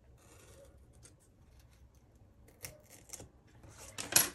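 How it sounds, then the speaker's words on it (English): Scissors trimming a paper corner for a planner, faint quiet handling at first, then a few crisp close snips building to a final louder cut. "I will take this and trim it to get that rounded corner off"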